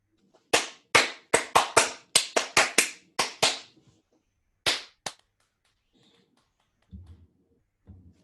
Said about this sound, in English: so now do some claps